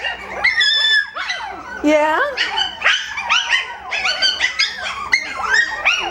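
Coton de Tulear puppies bark, yip and whimper in a continuous excited chorus of high, squeaky cries, close and loud, with someone briefly speaking among them.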